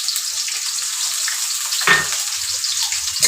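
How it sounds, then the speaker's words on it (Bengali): Onion frying in hot oil in a wok for okra bhaji, a steady bright sizzle with a brief stirring scrape in the middle. "তেল গরম হয়ে গিয়েছে, আমি ভেন্ডি ভাজির জন্য অল্প একটু সামান্য পেঁয়াজ দিয়ে দেবো।"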